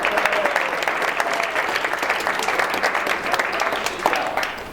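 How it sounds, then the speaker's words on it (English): A crowd at a tenants' association meeting applauds steadily, dense clapping filling the whole stretch at an even level with no voices standing out. "We could give Dale a round of applause for that."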